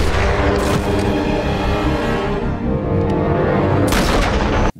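Loud, dense battle sound from the film Assault on Precinct 13, with booming gunshots and blasts piling up continuously, a burst of sharper crackling toward the end, no voices.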